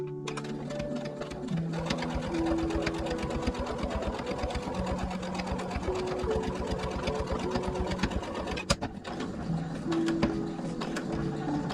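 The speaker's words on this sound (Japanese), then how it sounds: "ここでこの1センチをダブらせてここからまた縫っていきます" A sewing machine stitches a quilted table runner, its needle clattering in a fast, steady mechanical rhythm at close range with a brief pause and knock partway through.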